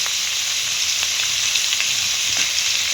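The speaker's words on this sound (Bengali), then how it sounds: "দিয়ে একটু ভালো করে ভেজে নেবো আলু আর কুমড়োটা।" Potato and pumpkin frying in a pan for a vegetarian Bengali potol-kumro dish, a loud, steady, close sizzle running throughout with faint stirring scrapes.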